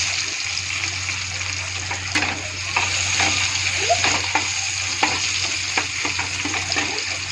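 Onions sizzle in oil in a home kitchen pan, a continuous close hiss broken by a string of clattering stirs and scrapes, with no talking.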